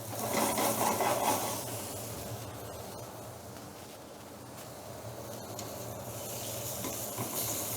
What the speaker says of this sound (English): a tiny touch of oil on the fillet, just to get a bit of a sizzle going again